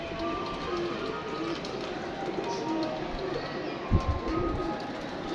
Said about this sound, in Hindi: ओए निकल गई कबूतरी